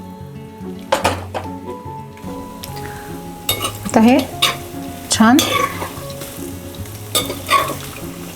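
Moong dal pakodas deep-frying in hot oil, a loud close bubbling sizzle broken by repeated clinks of a metal spoon against the pan, with brief talk in between.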